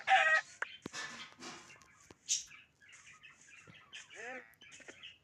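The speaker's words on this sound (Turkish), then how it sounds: "Tavuk." Clucking chicken sounds in Roblox, several short bursts and a squawk, with occasional chirps, fairly close and clear.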